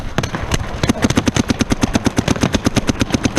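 Paintball markers firing on an outdoor field, a rapid steady stream of sharp pops, with a few scattered shots at first and then an even rhythm of close, loud shots.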